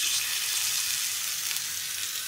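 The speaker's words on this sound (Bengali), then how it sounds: "ফ্লেভারের জন্য আমি কিছু গার্লিক দিয়ে দিচ্ছি, গার্লিক রোস্ট হয়ে যাবে" Garlic and onion roasting with a little salt in a pan, a soft, steady high sizzle throughout, fairly quiet and close, no voices.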